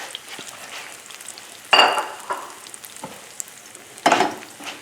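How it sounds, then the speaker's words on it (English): Eggs for an omelette go into hot butter in a pan and sizzle softly and steadily, while a utensil scrapes and stirs in a few louder, close bursts. "Pan is hot, and before the butter starts to brown, let's get the eggs in there."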